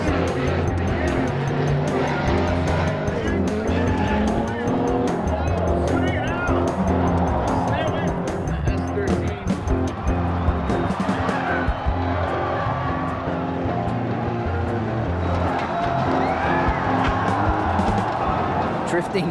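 Drift cars at a championship event scream past with howling engines and squealing, skidding tires, a dense continuous roar with crowd and voices mixed in throughout.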